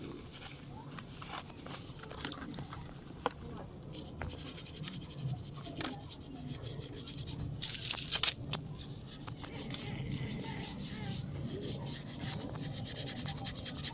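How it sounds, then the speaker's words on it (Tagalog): A chain coated in gasoline is scrubbed with soap: steady, close rubbing and scraping strokes with scattered sharp clicks and knocks, continuing throughout. "sabunan natin para matanggal yung gas yung gasolina"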